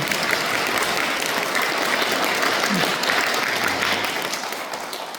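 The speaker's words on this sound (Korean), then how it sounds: "저희 청년회의 뜨거운 박수를 후원을 드리겠습니다" Loud, steady applause from a congregation at a Won Buddhist temple service, dense clapping that holds for several seconds before tapering off slightly at the end.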